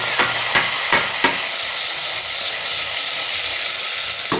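Onions hitting hot oil in a pot while cooking yellow beans and rice, a loud steady sizzle and hiss with a few knocks near the start and no talking.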